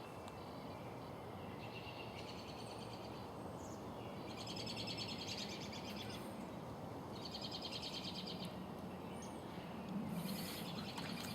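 Birds chirping behind a residential cul-de-sac, their repeated high trills and tweets coming in faint bursts from a distance over steady outdoor hiss, with no one speaking.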